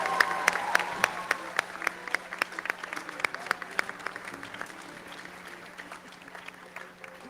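Applause from a white coat ceremony audience honoring new medical students, with dense clapping that thins out over several seconds, distinct individual claps standing out near the front, and a steady low hum underneath.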